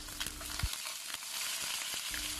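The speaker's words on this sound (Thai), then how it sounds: "ย่างไปเรื่อยๆจนกว่าเนื้อของคอหมูย่างจะสุกค่ะ" Pork neck grills in a pan with a close, continuous sizzle and crackle, broken by a few light scrapes or stirring knocks. There is no talking.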